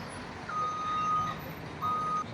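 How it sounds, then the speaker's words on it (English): A truck's reversing alarm sounds two long steady beeps, loud and close, over a low rumble of heavy street traffic in Cusco. "I just can't get over how heavy is traffic today"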